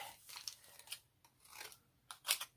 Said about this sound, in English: So once again, I'm just going to cut it